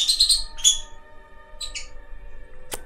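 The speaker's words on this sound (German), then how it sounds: "Meine Vögel, jetzt streiten die zwei Idioten sich." Birds in the video game Fairy Godmother Stories squabble with quick bursts of high chirps and squeaks, separated by short pauses, and end on one sharp click.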